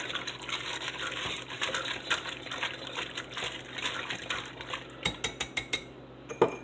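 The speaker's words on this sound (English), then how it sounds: "We're going to grab our little whisk here and we're going to mix that up" A small whisk mixes an oregano marinade in a bowl, producing a busy run of wet metallic clinks that ends in a few distinct, evenly spaced taps against the bowl's rim.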